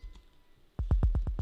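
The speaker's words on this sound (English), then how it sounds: "Now I'm using the same kick on a lower octave." A sub-bass kick sample pitched down an octave, repeating in a quick sixteenth-note pattern with slight velocity variation, entering after a brief quiet lead-in as a run of deep, evenly spaced thumps.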